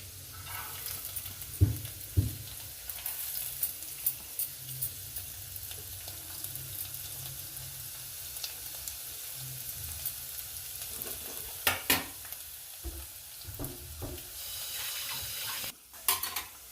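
Small pieces of garlic and ginger sizzle quietly in a pan with a soft, steady crackle, broken by occasional clinks and scrapes of stirring.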